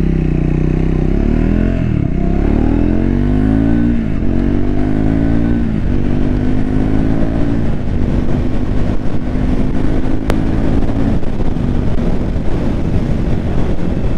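A new Triumph Speed 400 motorcycle accelerating hard from first gear toward 100 km/h, the engine note climbing in pitch through several rising sweeps with gear shifts between them, loud and close with wind rush.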